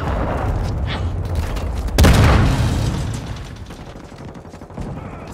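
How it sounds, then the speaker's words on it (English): A cruise missile strike in Call of Duty MW2 lands with a sudden loud boom about two seconds in, its rumble slowly fading beneath ongoing crackling gunfire and mechanical noise. "Friendly cruise missile approaching target."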